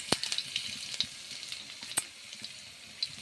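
Crushed garlic fries in hot oil with mustard seeds, a steady close sizzle broken by sharp spitting pops and crackles, no one speaking.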